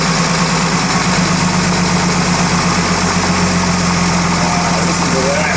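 A 1933 Chevrolet car with a new engine idles on its first start in over 50 years, a steady mid-pitched engine rumble running loud and close throughout with constant broadband noise.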